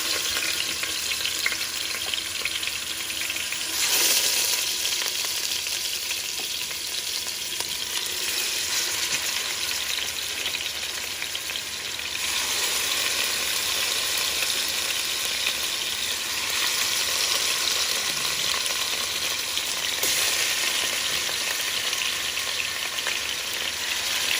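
Oxtails browning in a hot pan give a steady, dense sizzle and crackle throughout, close and even, with gentle swells where the meat is shifted or turned.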